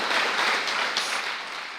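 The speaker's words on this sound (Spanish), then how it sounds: "Dale un fuerte aplauso al Señor." Steady crowd applause at a church service, a dense wash of many hands clapping at once, fairly loud and continuous, easing off slightly toward the end.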